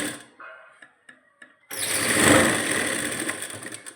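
A sewing machine runs a double line of stitching across a garment seam, starting with a few short bursts and then whirring steadily and loudly close by.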